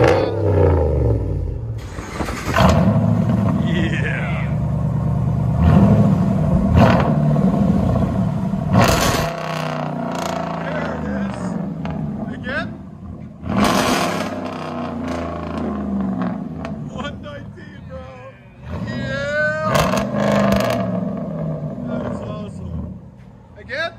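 A Hemi V8 car engine revs through aftermarket exhaust tips, rising roars and rumbling bursts between idle stretches, with people talking over and between the revs.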